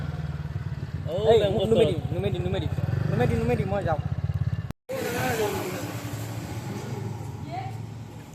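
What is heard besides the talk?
motorbike engine running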